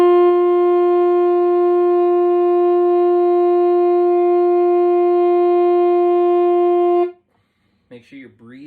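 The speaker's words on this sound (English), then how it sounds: "We want that steady, sustained sound." One steady sustained saxophone note held for about seven seconds, rich in overtones, then stops and a voice begins speaking.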